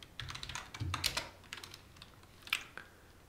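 Typing on a computer keyboard while entering commands to change directories on a Raspberry Pi, heard as a quick, irregular patter of key clicks with one sharper keystroke near the end, close up and with no talking.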